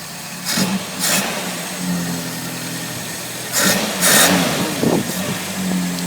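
A Hillman Avenger car engine, starting for the first time after 24 years, idles with a steady low rumble, briefly revving a couple of times before settling back, close and fairly loud.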